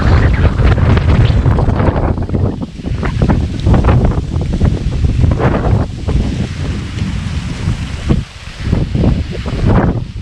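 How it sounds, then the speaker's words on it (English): Strong, steady wind beside a freshwater creek buffets the microphone in loud low rumbling gusts, with faint water sounds underneath and no clear voices. "I swear, every time I try and film it's windy"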